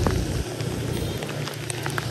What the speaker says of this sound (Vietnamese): Nha Trang còn thấy được những cảnh mưa như thế này.